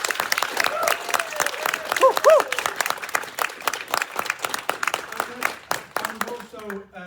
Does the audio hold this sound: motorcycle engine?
no